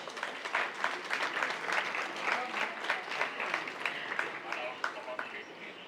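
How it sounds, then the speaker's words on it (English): Steady applause from an audience at a festival stage event in Tamil Nadu, a dense patter of clapping that continues evenly throughout. "Please join me in giving them a warm round of applause"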